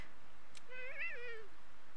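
A single short meow from a Palico-style cat creature in Monster Hunter: World, rising then falling over about half a second, faint and alone against quiet game ambience.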